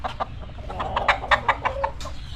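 A gamefowl broodcock rooster clucks in a quick run of sharp, close calls, rising into a rhythmic series that sounds plainly against steady farmyard background noise.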